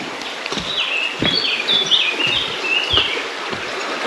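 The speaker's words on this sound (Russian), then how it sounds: "Опять птички." Small birds chirp and trill in quick high bursts in the Svir gorge near Lazarevskoye, Sochi, in July, over a gentle background wash, with scattered soft taps between the calls.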